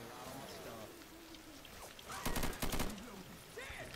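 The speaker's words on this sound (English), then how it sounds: "Good shooting." A quick cluster of gunfire bursts in Left 4 Dead 2 rings out near the middle, a few rapid shots standing above a busy background of game ambience and voices talking.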